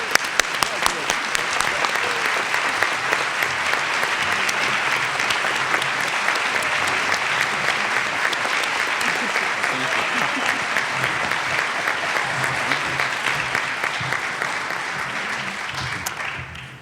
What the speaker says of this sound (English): Would you please applaud next year's president, Dr. Rich Feller.